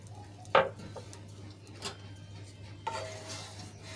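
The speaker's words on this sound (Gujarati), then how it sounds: "સરસ રીતે આપણે મિક્સ કરી લઈશું" A spoon scrapes and taps against a pan while stirring semolina and water, a few distinct clinks spaced apart over a low, steady background hum.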